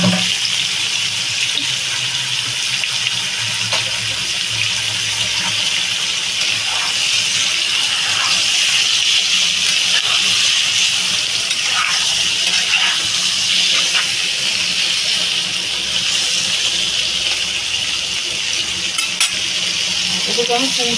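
Prawns tipped into a hot pan all at once for a Bengali prawn and raw pumpkin curry sizzle and fry loudly and steadily, a close, continuous hiss with faint stirring, and only a little voice.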